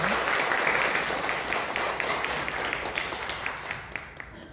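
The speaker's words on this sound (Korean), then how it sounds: "우리 다시 한번 박수로 하나님께 영광을 올려드립니다" Sustained applause from a church congregation after a choir's hymn, dense steady clapping filling the room, slowly thinning toward the end.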